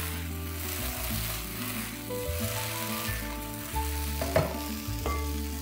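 Fried potato wedges tossed with garlic in a pan give a steady, soft sizzle and light stirring under prominent background music with a stepped bass line.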